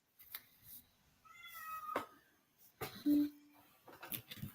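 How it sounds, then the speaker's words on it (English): A cat meows a few times indoors, short high cries heard faintly under intermittent talk in a quiet room. "You hear a kitty?"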